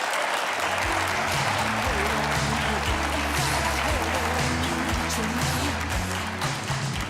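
A studio audience at a live morning television show bursts into sustained, loud applause, a dense wash of clapping that runs steadily throughout without pause.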